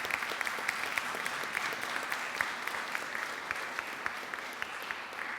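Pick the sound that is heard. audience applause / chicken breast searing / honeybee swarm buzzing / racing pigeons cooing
audience applause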